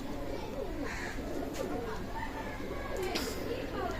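Pakistani Teddy pigeons coo softly and repeatedly inside a pigeon loft, with low rolling calls close by and a person talking over them.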